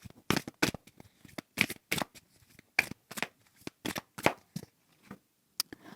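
Tarot cards handled and laid down one by one, a quick series of crisp close snaps and flicks separated by short pauses, no voices.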